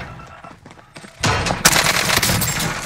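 Gunfire in the Warzone video game: after a quieter start, a sustained burst of loud shots and rattling fire begins partway through and continues dense and close to the end.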